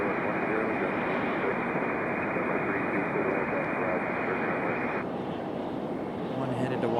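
A JetBlue Embraer E170 jet takes off at Raleigh-Durham International, giving a steady, fairly distant roar with a hissy upper layer that cuts out near the end, leaving a lower rumble.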